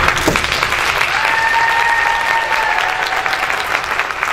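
A crowd at a Georgia Republican governor candidates' forum applauds steadily for several seconds, a dense, loud wash of clapping with no talk over it.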